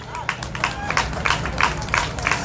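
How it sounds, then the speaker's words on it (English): An audience applauds presenters at an AMLKC event hosting George Floyd's family, with scattered, uneven bursts of clapping that rise and fall over a murmuring crowd and some background voices. "Just give them a round of applause."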